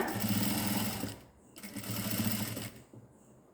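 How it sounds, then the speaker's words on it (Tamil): A sewing machine stitching a zip into a chudidar, two close bursts of fast rhythmic whirring with a short pause between, then a quiet stop. "ரெண்டாவது தடவை தைக்கும் போது இந்த மாதிரி க்ளோஸ் பண்ணிக்கிட்டு கொண்டுட்டு வாங்க"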